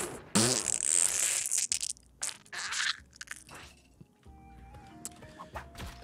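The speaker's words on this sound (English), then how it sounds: "It's time to fart noise my way out." A loud, spluttering fart sound effect from the Spelunky 2 video game bursts out in a rough blast lasting about two seconds, followed by quieter game sounds and chimes.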